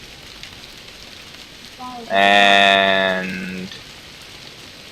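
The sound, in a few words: rain in DrizzlePath video game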